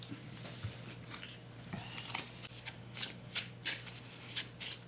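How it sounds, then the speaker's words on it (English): Quick riffling bursts of playing cards being shuffled close by, several crisp flurries in a row with short pauses between. "So we just shuffle this back into here."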